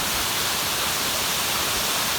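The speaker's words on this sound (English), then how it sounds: "This is a beautiful waterfall." A waterfall on a steep mountain trail in a canyon of the Sawtooth range makes a loud, constant rushing roar with no break.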